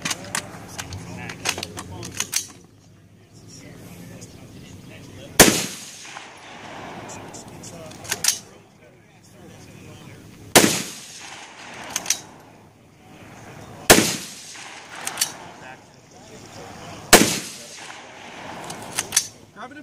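Sharp gunshots ring out one at a time at a three-person shooting stage, five or six loud cracks spread over about twenty seconds, with people talking faintly between shots.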